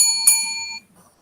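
A bright bell-like notification chime of the kind used as a subscribe-button sound effect, struck once near the start and ringing out for over half a second before cutting off into silence.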